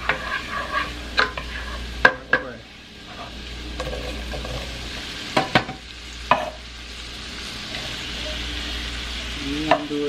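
A spoon scrapes and stirs butter potatoes with herbs in a hot pan, giving several distinct close clacks and scrapes over a steady low sizzle.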